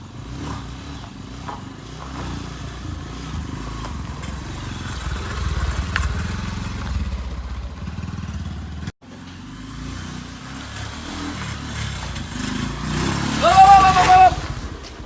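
A motorcycle engine runs steadily at close range, idling and rumbling with occasional revs, while people talk over it.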